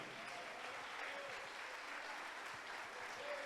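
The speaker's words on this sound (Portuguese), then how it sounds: "Vamos aplaudir o nosso Deus. Encerrei, vamos aplaudir." A church congregation applauds steadily at a fiftieth-anniversary service, dense continuous clapping filling the room from start to finish with no break.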